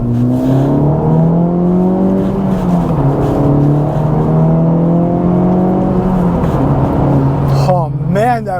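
An Acura Integra Type S accelerates hard on an open road, its engine pulling up through the revs with a rising note, a brief dip at a shift, then sharp rapid climbs near the end, heard from inside the car.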